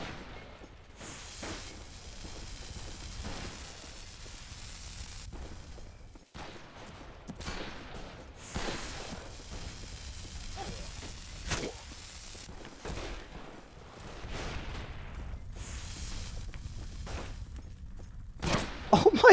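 Sharps rifle shots crack out repeatedly in the video game NeoTokyo, sharp bursts scattered irregularly across a busy stretch of gunfire and whooshes, some near and loud, others faint, with a final loud flurry at the end.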